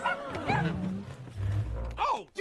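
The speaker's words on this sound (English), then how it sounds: "Oh, you got a puppy?" A small animated puppy yips and barks in a brief burst, mixed with a character's voice and cartoon sound effects, fairly close and lively.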